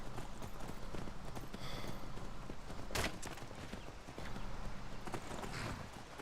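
Horses walking in the video game Skyrim, their hooves clip-clopping in a steady, fairly close rhythm over ambient game background, with one sharper impact partway through.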